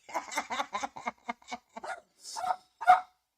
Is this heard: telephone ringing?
no